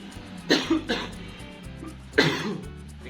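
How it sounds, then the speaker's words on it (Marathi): Several short, harsh coughs close by: two quick bursts, a pause, then another, over a low background hum. "कधी कधी खोकला आलाय"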